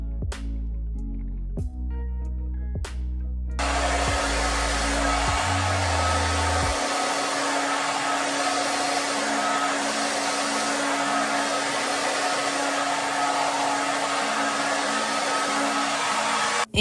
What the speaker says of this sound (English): at the end I just go in with the diffuser